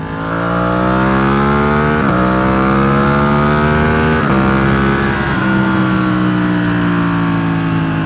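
A full-carbon Ducati 1299 Panigale engine pulls hard while riding, loud and close, its rising drone climbing through gear changes with brief dips around the shifts, steady throughout with no talk.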